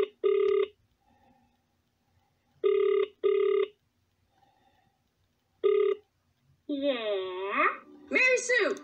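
A telephone rings in short repeated bursts with silences between, followed by a high, expressive voice speaking.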